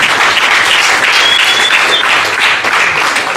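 Dense, loud applause from a comedy roast audience in Richmond, Virginia, sustained steadily and close throughout with no break.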